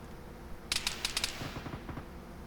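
Gunfire in the military shooter Arma 3, a quick burst of about eight sharp cracks in rapid succession, followed by duller echoing reports trailing off under a low background hum.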